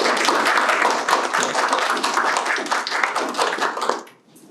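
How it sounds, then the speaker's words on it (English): Applause from the audience at a regional library's archive launch, honouring the project team: dense, steady clapping that stays loud for about four seconds and then quickly dies away. "So I'd like to take this opportunity to applaud everyone involved in the project."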